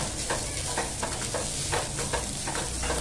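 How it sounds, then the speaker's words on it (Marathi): Freshly grated coconut is sautéed with onions in a pan for a Malvani clam curry, giving a steady, close, textured sizzle broken by regular scraping stirs, with no talking. "ओलं खोबरं पण आहे ना छान गुलाबी होईपर्यंत परतून घेऊया"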